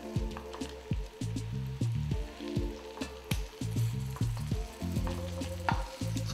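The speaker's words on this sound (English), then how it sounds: "So while that's frying up, and remember, keep it on medium." Quail pan-fries in butter over medium heat, giving a close, busy sizzle with crackling pops and occasional stirring or shifting sounds.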